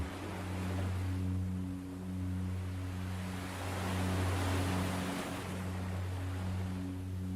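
Steady ocean waves wash in a continuous, soft surf roar, gently swelling and easing, with a low sustained hum running underneath; calm and unbroken, no voices.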